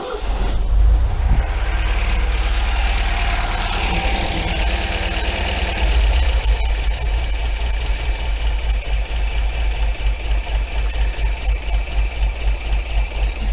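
Close, loud idle of an MGB engine running roughly during carburettor tuning, a low uneven throb with a steady mechanical hum over it, continuous for the whole stretch with no talk.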